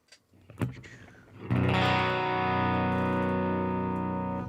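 An electric guitar chord rings out after a few picked notes, sustaining with a warm, slightly gritty Deluxe Reverb amp preset tone and reverb tail.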